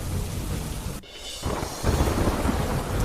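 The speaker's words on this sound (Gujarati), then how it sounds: "ધોરાજીના ગ્રામ્ય વિસ્તારમાં ભારે વરસાદ." Heavy rain pouring down during a thunderstorm over rural Dhoraji, a dense, steady hiss of rainfall broken by a brief rumble of thunder, with no voices.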